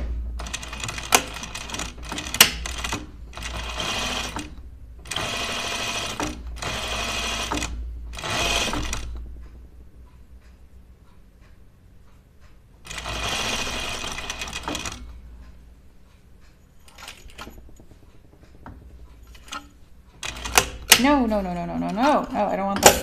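Sewing machine stitching a coat pocket, sounding in several separate bursts of a few seconds each, with quiet gaps between them and light handling noises near the end.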